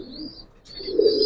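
A female pigeon, a high-quality Giribaz breed, gives soft low coos close by, a short murmur followed by a fuller coo, with a faint steady high hiss in the background.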